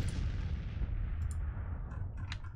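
Artillery cannons fire in the Civil War strategy game Grand Tactician, a dense, continuous low rumble of overlapping booms that stays loud throughout, with a few sharper reports near the end.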